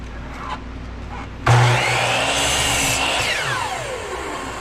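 A power saw cuts wood guided along a fence while preparing a knife block: a sharp whine rises after a quiet lead-in, holds steady as it bites, then winds down gradually.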